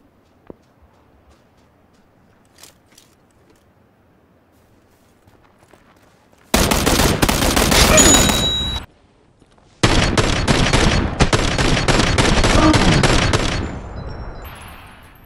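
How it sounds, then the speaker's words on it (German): Gunfire in the battle royale video game PlayerUnknown's Battlegrounds: two loud, dense bursts of rapid shots, the first lasting about two seconds and the second about four, separated by a brief gap and preceded by faint quiet movement. "von dort kamen ja Schüsse."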